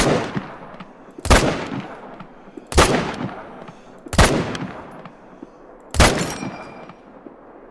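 Four loud, sharp rifle shots from an M1 and a .30-06 in the hunting game Call of the Wild, spaced about one and a half seconds apart, each fading into a rolling echo.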